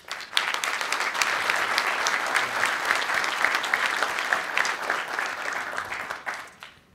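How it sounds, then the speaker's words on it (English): Conference audience applauding panelists at an OpenStack event, sustained dense clapping at a steady, moderately loud level that tapers off toward the end. "Round of applause for our panelists."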